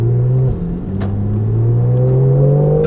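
A Porsche 911 GTS with PDK gearbox in Sport mode accelerates hard, its engine note rising steadily in pitch with a brief shift dip near the start, loud and close, no talk.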